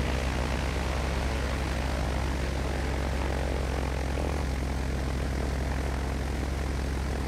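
Cessna single-engine propeller plane taxiing in Flight Simulator X, a steady, loud droning engine hum with propeller buzz that holds evenly throughout, with no voices.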